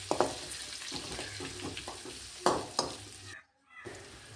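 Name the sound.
onion frying and being stirred in pan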